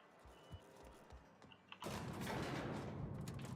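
A few faint thuds, then a sudden loud burst of cannon fire in the video game The Outer Worlds erupts into a sustained, roaring rumble of explosions.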